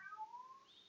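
One short, close meow from a cat in a speedrun game, a thin rising-and-falling call lasting under a second and fairly quiet.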